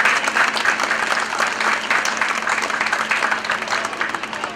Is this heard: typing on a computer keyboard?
no